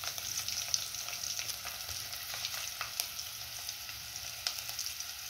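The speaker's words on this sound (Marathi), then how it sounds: "बघा तो लसूण तेलामध्ये कसं इकडून तिकडून नाचतं की नाही, त्याला मस्तपैकी गुलाबी कलर येईपर्यंत खरपूस भाजून घ्यायचं" Mashed garlic frying in oil for a prawn curry gives a steady, close crackling sizzle with scattered pops and a few soft stirring clicks throughout, and no one speaks.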